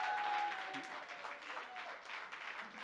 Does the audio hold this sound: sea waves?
no